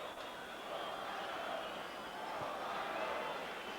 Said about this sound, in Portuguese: E a torcida continua gritando aqui atrás do banco do Brasil